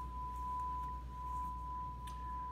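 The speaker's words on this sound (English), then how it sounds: "I'll turn on a sine wave." A steady, unbroken sine test tone plays through a homemade clone of a Bryston BP26 preamp, holding one pitch at an even level over a low background hum for the whole stretch.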